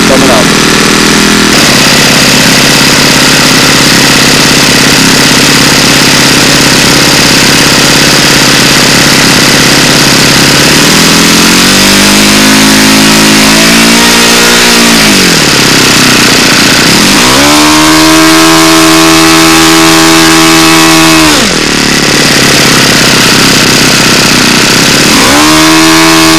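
A small engine fitted with a muffler and intake idles, then revs up and falls back several times in rising and falling sweeps, loud and close throughout.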